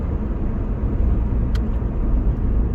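A 2004 Pontiac Vibe drives along with a steady, loud engine and road rumble, with one brief sharp click partway through and no voices.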